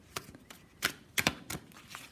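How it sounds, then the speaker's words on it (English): Thick cardstock Santa Muerte tarot cards being shuffled by hand, a quiet series of crisp riffling snaps and soft flicks in an irregular rhythm, close up with no talking. "it shuffles quite nicely, even if it is that somewhat thicker cardstock"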